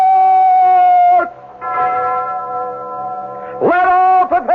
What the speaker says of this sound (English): Ring the alarm bell!